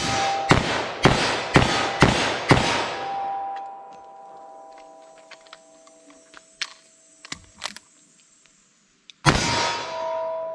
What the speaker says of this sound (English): after I fire 6 rounds, I'm going to do a reload and fire a shot